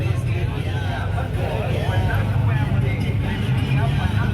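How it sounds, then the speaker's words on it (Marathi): An auto rickshaw ride to a temple during the Ekvira fair: a steady motor drone and road rumble continue throughout, with a faint crowd murmur behind the engine. "रिक्षा करून चाललेलो आहे आपण."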